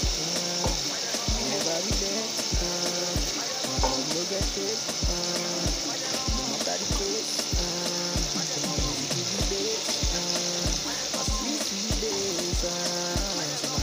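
Beef added to fried sauce sizzles steadily in a pot for Nigerian miyan taushe, a continuous frying hiss overlaid with regular rhythmic knocks and clatter throughout.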